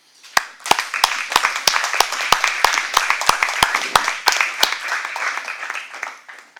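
Attendees at a municipal council meeting clap together, a close, crisp run of individual hand claps layered over broader applause that gradually fades out.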